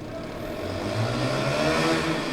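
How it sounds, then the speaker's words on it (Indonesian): A motorcycle engine hums steadily in the distance, rising slightly in pitch and loudness as it passes, a continuous background drone with no speech over it. "suara motor ya"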